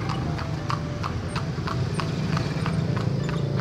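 A horse pulling a carriage near a hidden garden in Ilocos clip-clops along in a steady rhythm, each hoof strike crisp and distinct over a constant low rumble of wheels and road noise.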